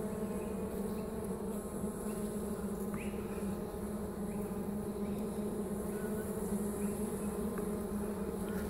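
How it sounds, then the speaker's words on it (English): Young honey bees buzzing at a hive, a dense continuous hum of many insects close by, steady throughout with no speech. "A lot of young bees here."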